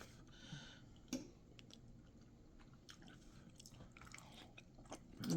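Soft, close chewing of oven-baked pork belly burnt ends glazed with honey, brown sugar and butter, with faint crunchy bites at a quiet, steady pace and no talking.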